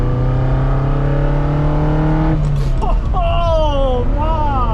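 Ferrari Dino 208 GT4 with an aftermarket, non-stock exhaust, its engine revving loudly and close by with rising and falling pitch as it accelerates, while voices talk over the engine noise.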